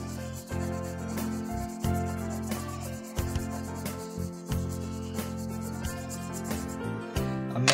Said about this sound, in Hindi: तो मैं पहले चारकोल से कर रहा हूँ, ये आपको दिखना शुरू होने लगेगा।